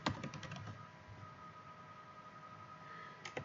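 Text is typed into an input field on a computer keyboard: a quick burst of key clicks at the start, a quiet pause, then a few more taps at the end, close and fairly faint.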